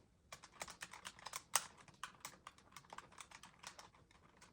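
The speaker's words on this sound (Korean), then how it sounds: "키보드 소리만 나는데?" Rapid, quiet clicking of keys on a computer keyboard, typed in quick irregular bursts up close with no voices.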